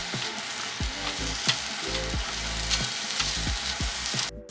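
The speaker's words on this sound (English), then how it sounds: "Heat the pan with a bit of oil over medium heat, and in goes carrot and broccoli stem." Carrot and broccoli stem frying in oil in a pan over medium heat, a steady close sizzle punctuated by repeated scraping stir strokes as the pan is kept moving.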